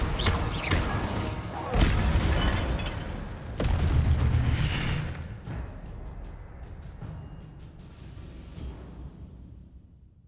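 Incendio fire spell cast in Hogwarts Legacy, a deep booming whoosh with fiery crackle. Two strong bursts swell and fade over roughly ten seconds against game ambience.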